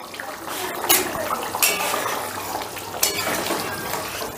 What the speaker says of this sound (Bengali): কিছুক্ষণ বাদে ঢাকাটা তুলে নিলাম।